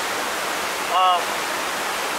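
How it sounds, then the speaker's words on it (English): A small waterfall on a wet Smoky Mountains backpacking hike pours as a steady, loud rush of water with a brief tonal sound in the middle. "have made it to this cool little waterfall thing here"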